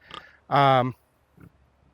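Pastured pigs give a loud, sustained grunt near the middle, with a brief softer grunt after and faint sounds at the start.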